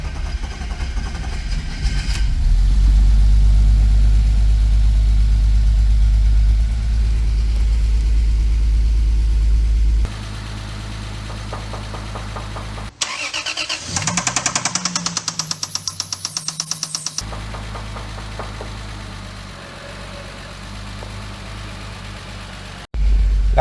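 BMW E36 engine, freshly fitted with an 8HP automatic gearbox, starts and runs with a loud, steady mid-pitched rumble and knocking idle, a harsh revving burst near the middle, then settling back to idle; no talking.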